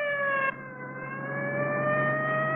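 A loud, steady siren wails with a sustained, slowly shifting tone that briefly dips and then continues without pause.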